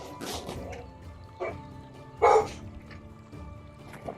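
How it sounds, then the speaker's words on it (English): Pet dogs bark at home in a few short, scattered outbursts, one louder yelp standing out near the middle, moderately close with quiet room noise between. "Sorry, my dogs are going nuts."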